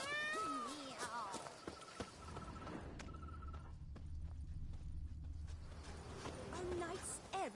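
A cat meows several times in The Witcher 3 video game, loud and close at first, then fading to a softer mewing toward the end over quiet game ambience and faint footsteps.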